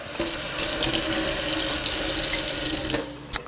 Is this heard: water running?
yes